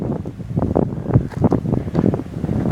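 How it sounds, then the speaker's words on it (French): Strong headwind buffets the microphone on the Rivière des Galets embankment, a loud, gusty rumble that surges and dips continuously, close and overwhelming, with no voices. "il y a un sacré vent qui vient de face"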